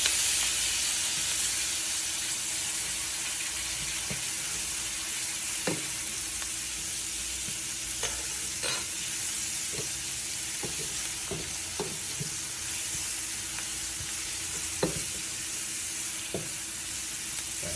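Minced garlic sizzles in a hot pan for a fish curry made with Kingstonz curry powder, a steady close frying hiss broken by scattered pops and crackles, with no talking.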